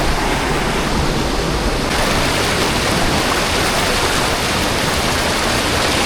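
A strong river current rushes loud and close on the trail to a waterfall, a dense, unbroken roar of churning water that holds steady throughout with no voices.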